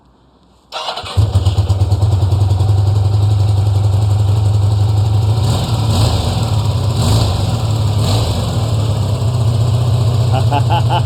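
A VW Beetle engine cranks and fires up after a second of quiet, then settles into a steady, loud, close idle that runs on with slight wavering and no talk.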